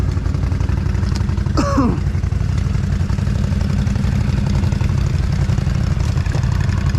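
A Polaris Scrambler 1000 engine idling in gear, a loud steady close rumble with an even clattering pulse running throughout, broken briefly by a short squeaky chirp near the start.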